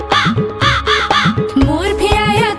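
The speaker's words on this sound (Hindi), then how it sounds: "मोर भी आया, कौवा भी आया" Crow caws sound repeatedly in a Hindi children's nursery rhyme, loud rhythmic cawing layered over bouncy music.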